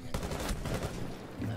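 A quick string of close, sharp gunshots in a competitive multiplayer video game tails off into a short quiet stretch.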